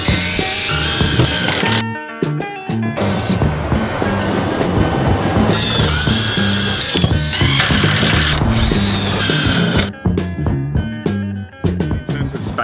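A power drill drives metal screws into a metal wall panel while a vertical garden goes up, giving loud, close bursts of whirring that start and stop repeatedly with short gaps.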